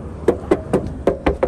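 Knuckles knocking on the uninsulated trunk lid of a VAZ car: six hollow, fairly loud metallic knocks in an uneven rhythm, close up with no talking.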